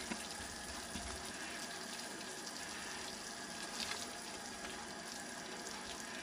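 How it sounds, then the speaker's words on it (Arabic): Tunisian sauce for an egg dish boils in a pot, giving a faint, steady bubbling hiss that runs on evenly with no one speaking. "هذه الصوص نتاعنا شفتوها تغلي"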